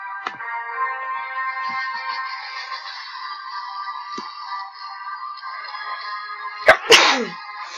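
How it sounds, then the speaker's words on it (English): A single sharp human sneeze bursts out near the end, loud and close, following a long steady electronic tone from a Roblox game. "I just sneezed."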